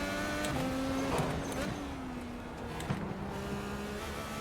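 Synthetic IndyCar engine in the iRacing sim whines at a steady high pitch, holding revs with slight rises and dips, continuous and fairly quiet, with no other sounds.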